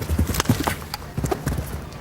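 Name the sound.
horse hooves galloping on show jumping course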